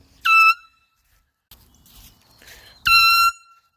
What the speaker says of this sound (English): Super blast air horn.